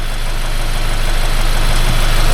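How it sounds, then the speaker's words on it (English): A 2022 Subaru Crosstrek idles in a service bay after a CVT drain and fill, its engine running steadily with a continuous low rumble and faint rhythmic knocking, close by and without talk. "it's a little noisy, the car's running"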